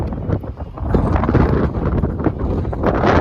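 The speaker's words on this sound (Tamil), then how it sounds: "செம்ம காற்று அடிக்குது" Strong wind roars and buffets the microphone in rough gusts on a boat ride at sea off Kanyakumari, loud and continuous with no voices.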